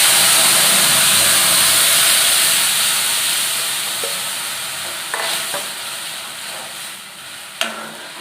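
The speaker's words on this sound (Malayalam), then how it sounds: "ഇട്ട് കൊടുത്ത് കഴിയുമ്പോൾ നമുക്ക് അരച്ച അരപ്പ് ഒഴിച്ചു" Ground coconut paste hits hot oil already crackling with curry leaves and dried red chillies, giving a steady loud sizzle and hiss that slowly fades, with a few sharp pops and spatters near the end.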